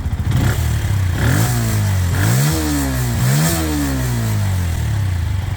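A Benelli 125S motorcycle engine revs up and down several times over a steady idle, loud and close, with rising and falling pitch sweeps.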